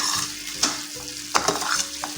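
Half a kilo of machine-minced keema fries in a pan for patties, giving a steady close sizzle. A spoon stirs and scrapes through the meat several times, adding soft knocks and scrapes.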